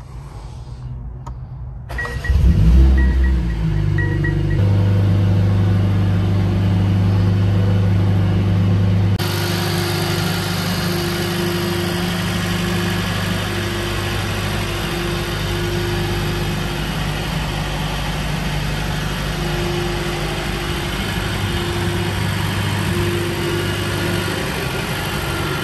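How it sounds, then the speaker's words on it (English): A 2021 Mercedes-AMG CLA 45 Coupe engine starts with a brief loud burst of cranking, then settles into a steady, close idle hum that continues for the rest of the clip with no talk. "I'm gonna start the car."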